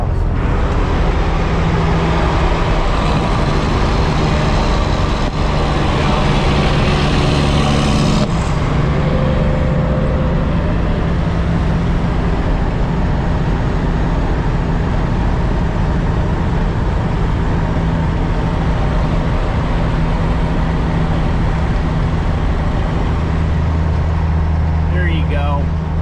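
Idling and revving diesel engine with exhaust from a Kenworth cabover truck loaded to 44,000 pounds, outside Atlanta, Georgia; a steady, loud low rumble runs throughout, with voices talking over it.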